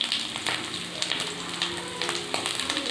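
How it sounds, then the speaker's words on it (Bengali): Food fries in a pan on a gas stove with a close, continuous sizzle and crackle. Small pops and spits rise above the hiss throughout, and no voices are heard. "এই দেখো এটা এখন ভাজা হচ্ছে"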